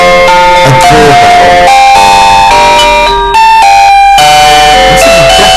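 A novelty doorbell ringtone plays a loud electronic chiming tune, a run of bright, clear bell-like notes that carries on with a brief dip partway through.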